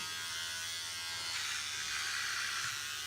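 Electric beard trimmer with a weak, nearly dead battery buzzing steadily and close, a continuous bright whine with no talk.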